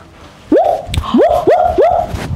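A dog barks four times in quick succession, each bark a short rising yelp, loud and close, with no talking over it.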